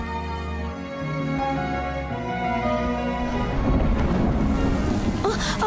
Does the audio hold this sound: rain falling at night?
yes